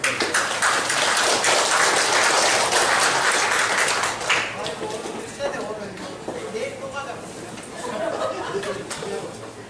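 A hall audience at a clan association's general meeting claps loudly to welcome the new chairman, a thick burst of applause for about four seconds that fades into scattered claps, murmuring and light chuckles.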